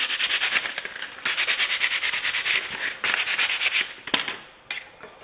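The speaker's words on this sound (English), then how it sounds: "So I'm going to try to sand it." A wood intarsia piece is sanded by hand with 100 grit sandpaper: close, rhythmic back-and-forth scratchy strokes in quick runs, broken by a few brief pauses, with no talking.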